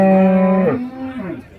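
A cow gives a loud, close moo at a busy cattle market, a long sustained low call that bends downward midway and trails off into a second rough lowing tail.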